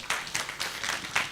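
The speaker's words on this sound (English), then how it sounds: "A warm round of applause." Audience at a demo event claps in a brief, moderately quiet burst, a handful of distinct hand claps spread over about a second.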